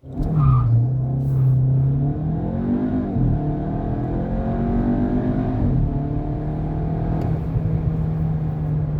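Škoda Octavia RS with a 265 hp engine pulling hard from a standstill to 100 km/h, its engine note climbing steadily through the gears with brief dips at the shifts, loud and close throughout with no talking.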